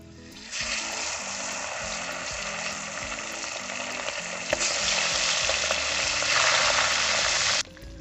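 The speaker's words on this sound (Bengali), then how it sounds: "দারুণ গন্ধ বেরিয়েছে তেলাপিয়া মাছ ভাজা।" Tilapia fish fry in hot oil in a rural kitchen, a steady crackling sizzle that starts abruptly, swells louder toward the end and then cuts off, with a low droning hum beneath.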